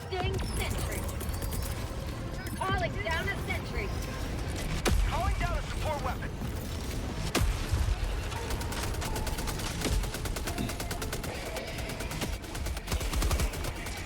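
Sentry turrets fire repeatedly in a Helldivers 2 battle against the Illuminate, a dense, continuous barrage of shots with sharp louder bursts over game noise, while a voice talks at times.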